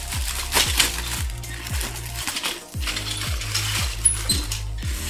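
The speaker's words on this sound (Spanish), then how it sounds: "Hacen un ruido bastante feo. Esto odié cuando me traje el kit, porque ay, cuando chocan las piezas entre sí." Plastic parts from a 1/48 Monogram P-51B model kit clatter and knock together, a run of sharp rattling clicks repeating in quick bursts, close and fairly loud with no speech.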